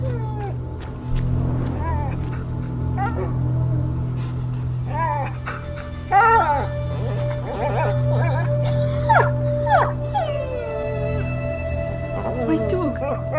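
A dog in the video game A Plague Tale: Innocence whimpers and howls in rising and falling whines over a steady low hum, with repeated plaintive cries throughout.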